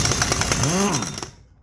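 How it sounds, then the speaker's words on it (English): An impact wrench spins off a reverse-threaded 22 mm primary drive nut on a Suzuki DRZ125 clutch side. It gives a loud, close, rapid hammering rattle that cuts off abruptly, leaving near silence. "The only reason I used an impact for that"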